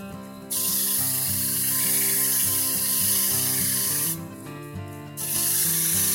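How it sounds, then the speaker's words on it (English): Sandpaper of 120 grit rubs against a soft wood column spinning on a lathe, a steady close hiss over the motor's constant tonal hum, briefly dropping off near the end before resuming. "A little final sanding here."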